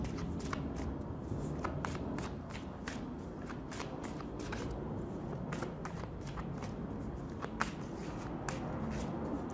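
Tarot cards shuffled repeatedly, a steady run of soft riffling snaps and flicks under a light papery rustle, close and moderately loud throughout with no talking.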